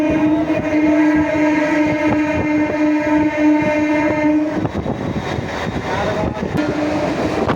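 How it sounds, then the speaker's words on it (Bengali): A Sealdah–Shantipur local train sounds a long, steady horn blast over loud rail rumble and clatter. The horn cuts off partway through, and the clanking wheels and carriages keep rolling close by. "তো এখন ট্রেনটার হংকিং শোনো জাস্ট"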